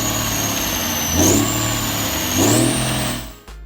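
A Cummins 855 NTC 400 big cam diesel truck engine, a 14-litre inline six, runs loud and close, revving up twice in steady rising pulls before cutting off sharply near the end.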